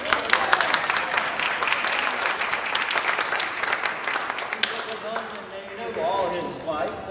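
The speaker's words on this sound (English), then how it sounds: "Yes, you can clap for Tony." Audience applause at a noontime concert by a barbershop chorus, crisp close clapping for several seconds that thins and fades out, followed by murmured voices in the hall.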